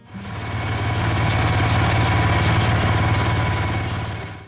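An older farm tractor engine, a John Deere 4020, idles with a steady low rumble and a constant mechanical vibration, close and fairly loud, holding an even level throughout.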